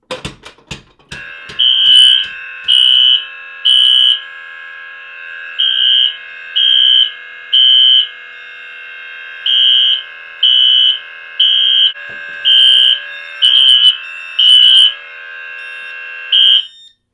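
Fire alarm panel system sounding after a pull station is pulled, loud repeating electronic tones and buzzer pulses in a steady rhythm of about a dozen beats, with clicks at the start.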